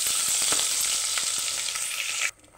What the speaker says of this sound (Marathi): आता आपण यात लसूण टाकणार आहोत ब्राऊन होईपर्यंत, आणि मसाला टाकणार आहोत